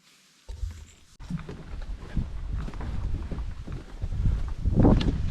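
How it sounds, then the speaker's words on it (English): Gusty outdoor wind in Algonquin Park, a low rumbling buffet that swells and rises toward the end, close and steady with no talk. "got some wind."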